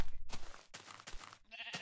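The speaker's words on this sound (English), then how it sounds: "Thank you for being stuck in that tree, sheep." Minecraft sheep bleating, a few short, close, nasal cries separated by brief pauses, loud against an otherwise quiet background.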